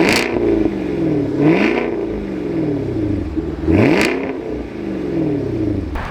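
A 2026 Cadillac Escalade V engine revs repeatedly through its exhaust, with loud rising and falling sweeps, sharp blips and crackles between pulls, close to the tailpipes.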